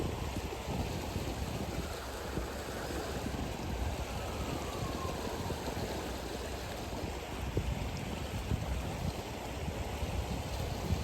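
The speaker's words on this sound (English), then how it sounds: "water is moving really fast and it's higher today" A fast-flowing creek, high and flooded, churns steadily and loudly, a constant broad roar with no breaks and no voices.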